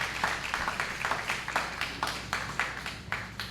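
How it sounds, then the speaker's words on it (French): Studio audience at a televised quiz match in Pétion-Ville warmly applauding the candidates, a steady ripple of clapping with regular louder swells throughout. "Justement celui d'applaudir chaudement nos candidats"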